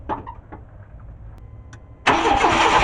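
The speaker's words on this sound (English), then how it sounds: "go inside, and crank her over." A 1994 Chevy Cheyenne truck engine cranking after a no-spark fault, with a few faint clicks and then an abrupt, loud, steady cranking roar that continues to the end.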